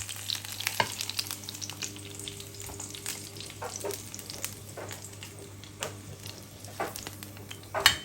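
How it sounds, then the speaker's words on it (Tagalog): Eggs fry in a pan at breakfast, a continuous soft sizzle close to the microphone under a low steady hum, punctuated by scattered crackles and pops that grow sharper near the end, with no speech. "so luto ngayon tayo ng itlog"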